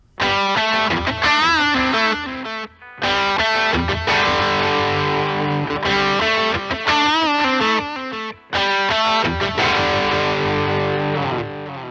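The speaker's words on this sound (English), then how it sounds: "I'm going to set up a little delay patch here on my Catlin Bred Echo pedal" An electric guitar plays a riff through a Catalinbread Echo delay pedal, heavily distorted and loud, repeating in bursts separated by brief gaps, with no talk.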